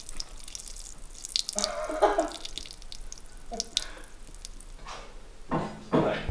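Water splashes and trickles out in irregular gushes, close by, with quieter gaps of dripping between the surges.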